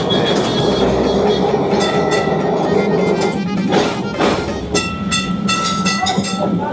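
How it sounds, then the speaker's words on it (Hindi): A heritage tram runs through Kolkata, West Bengal, with a steady close rumble and rattling rail clatter that continues throughout, broken by occasional sharper metallic knocks. "कैसे चल रही है देख सकते हैं, कैसे ट्राम चलाते हैं।"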